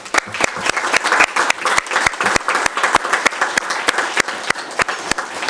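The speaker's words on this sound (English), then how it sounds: "Let's give them a round of applause." A modest round of applause at a city council meeting: a small group claps near the microphone, individual sharp claps standing out in a fairly regular, uneven patter throughout.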